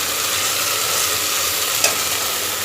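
Mixed vegetables cooking together in a pan for vegetable biryani give a loud, even, close sizzle with a brief clatter of stirring near the middle.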